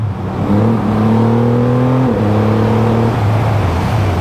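A Triumph Rocket 3R motorcycle engine pulls hard under acceleration, a loud, close, continuous drone rising through the gears, with one shift dip about halfway before the pitch climbs again.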